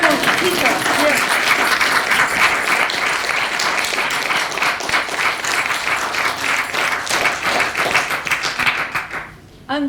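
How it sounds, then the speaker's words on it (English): A round of applause from guests at an anniversary award ceremony of a society, loud and dense with distinct claps, gradually thinning near the end before a voice briefly returns. "oh, round of applause, Peter, yes."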